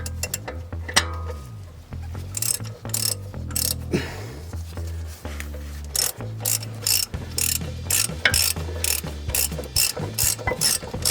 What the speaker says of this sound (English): tighten up the caliper bolts